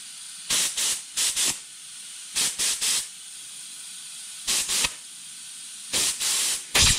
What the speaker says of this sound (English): clean them in a little bit of lacquer thinner. Wipe off the outside. Spray out the inside.